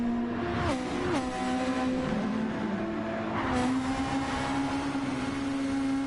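Race cars driving in Gran Turismo 7, several engines droning together at a steady high pitch with pitch shifts as cars pass and shift gears, loud and continuous, with no talk.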